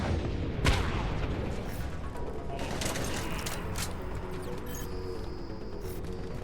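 Continuous rapid weapon fire in the sci-fi shooter game Mass Effect 3, a dense, loud clattering barrage with booming impacts, running steadily throughout without any talk.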